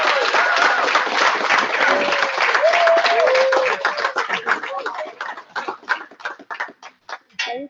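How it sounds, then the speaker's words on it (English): Steady audience applause for graduates at a capstone festival, from many hands, loud and dense at first, then thinning into scattered individual claps toward the end. "I want to applaud all the graduates."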